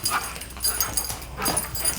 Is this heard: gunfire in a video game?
no